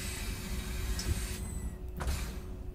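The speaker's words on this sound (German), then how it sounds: "Türen geschlossen." Mercedes-Benz Citaro bus doors closing in the TramSim simulator, a brief pneumatic hiss and thud over a steady idling engine hum.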